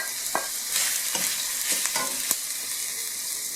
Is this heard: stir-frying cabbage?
yes